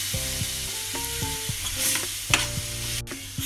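Mutton keema stirred and scraped in a frying pan over a low flame, with repeated clinking spatula strokes over a soft, steady sizzle.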